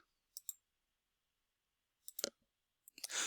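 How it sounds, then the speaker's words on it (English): A computer mouse clicks a few times, sharp and close in near silence: a double click, a short burst of clicks and then one more, with a soft rustle at the end. "and then click on create"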